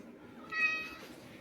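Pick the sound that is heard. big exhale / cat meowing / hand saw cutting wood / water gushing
cat meowing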